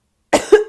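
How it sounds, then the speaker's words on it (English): A person coughs twice in quick succession, close and loud, after a moment of silence, during a tarot reading. "I have a bit of a cough today."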